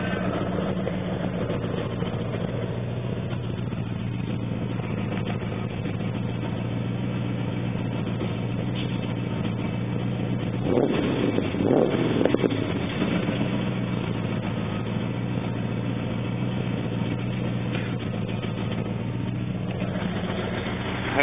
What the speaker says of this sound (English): See if I can put the camera at the back and give it a rev.